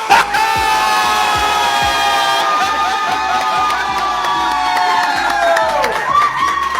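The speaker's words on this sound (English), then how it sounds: "she dropped the news. "This is my brand new album," she announced, sparking applause, gasps, and literal meltdowns across the fandom." A large crowd at a concert-style announcement of a new pop album cheers and applauds loudly, shouts and whoops rising together, with a sustained musical tone playing underneath.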